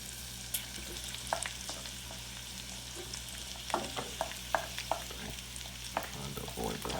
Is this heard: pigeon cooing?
no